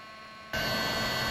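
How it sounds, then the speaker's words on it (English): A heat gun switches on and blows steadily to dry fresh repair mortar in a brick core hole, a sudden loud, constant roaring hiss after a quiet hum. "do a heat gun test."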